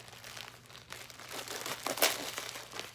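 Close, crinkly rustling as an item wrapped in bubble wrap is handled during an unboxing, a continuous plastic crackle that swells briefly near the middle, with no talking.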